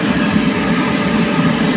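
Train rolling across a bridge, a loud, steady, dense rumble and rattle of rail cars that fills the whole short stretch without pause.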